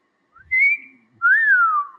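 Two-note wolf whistle in a Batman animated series episode, a rising tone then a longer sliding one, clear and close against silence.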